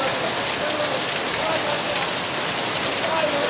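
Torrential rain pours down in Zanzibar, a dense, unbroken hiss of heavy drops striking surfaces close by, loud and even across the whole stretch.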